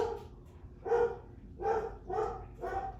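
A dog barks four times in a fairly steady rhythm, moderately loud and close, over a low background hum.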